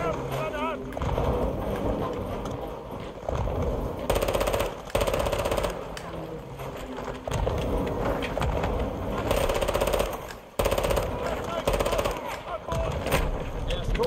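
Dense, sustained automatic gunfire in the video game Call of Duty: Modern Warfare 2, loud rapid bursts running almost continuously with brief gaps, under voices speaking.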